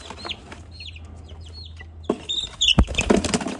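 Chickens and young chicks give scattered high peeps and soft clucks close by, with a low hum underneath and a burst of louder fluttering and clucking near the end.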